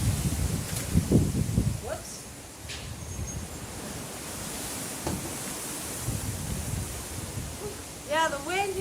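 Wind blowing outdoors in Tracy while trees are planted in a single hole, a constant rushing buffet over the microphone throughout, with occasional rustles and a voice speaking near the end.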